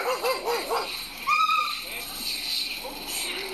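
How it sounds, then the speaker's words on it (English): German Shepherd dog barks and whimpers in a few short, yelping bursts near the start, mixed with people talking excitedly over a busy background. "Did you hear the dog?"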